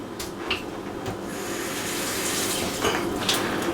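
Water poured into a chicken lasagna dish during cooking, a soft steady trickle and splash from a tap, faint and close with no talking.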